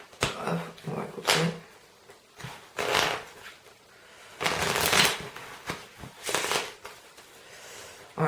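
A deck of playing cards is cut and handled during a card trick, with several brisk papery riffles and slaps in irregular bursts, close and clear.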